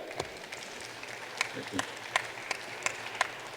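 Scattered claps from a small audience at a future innovation summit on Mars colonization: a handful of distinct hand claps spaced irregularly over quiet room tone, fairly faint and not building into full applause.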